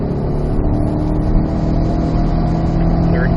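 C8 Corvette pulling hard in 4th gear down a race track straightaway, a loud steady in-car engine drone with a constant low roar and no break in the sound.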